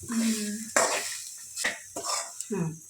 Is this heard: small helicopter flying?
no